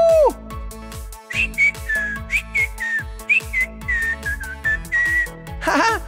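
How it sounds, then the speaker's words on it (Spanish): A person whistles a bright melodic tune in short sliding phrases, loud and close, alongside a bouncy rhythmic musical backing. "¡Estoy silbando!"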